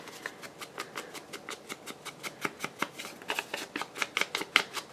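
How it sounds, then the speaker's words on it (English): Paper from an envelope being torn by hand in short, rhythmic rips, a steady series of close, crisp tearing strokes that grow slightly louder toward the end. "I'm going to kind of tear just a little bit of this."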